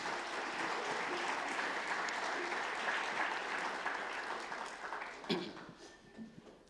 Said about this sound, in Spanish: Dale un aplauso a Jesús en esta noche.